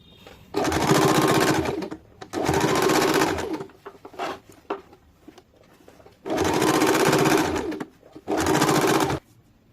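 A sewing machine runs in four sustained bursts, stitching a salwar, with short pauses between runs and faint handling noises in the gaps.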